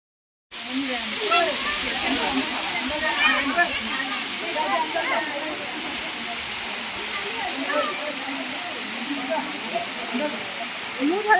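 The small Manikyadhara waterfall near Bababudangiri gives off a steady broadband rush of falling water from start to finish, with voices talking over it throughout.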